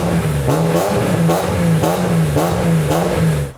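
A BMW M3 fitted with an exhaust header revs in quick repeated blips, a loud, raspy, close engine note rising and falling about every half second.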